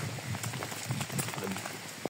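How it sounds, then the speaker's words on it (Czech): Rain falls in a forest as dense, steady patter on leaves and ground, with scattered louder drops. It stays fairly loud and continuous before cutting off abruptly. "Jako prší celkem dost"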